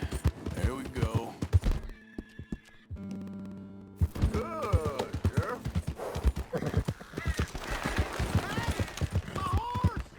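A horse whinnies and hooves clip-clop, with someone speaking softly to it over the top in a Red Dead Redemption 2 game scene.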